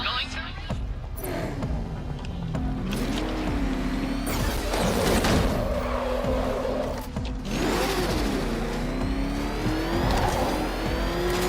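Engine roar and tire screeches from a street race in Batman: Arkham Knight, revving and surging with squealing turns throughout, and a voice speaking over the driving.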